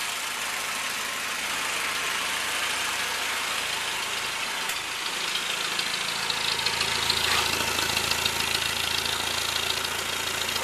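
A 1943 Jeep GPW engine idles nearby with a continuous low rumble and broadband mechanical noise, growing slightly louder and rougher toward the end.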